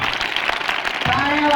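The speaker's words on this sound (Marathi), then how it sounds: "टाळ्या वाजवा, टाळ्या वाजवा" An audience at a mother-parent gathering and haldi-kumkum event claps in a dense, fairly soft patter. A voice starts speaking over the applause partway through.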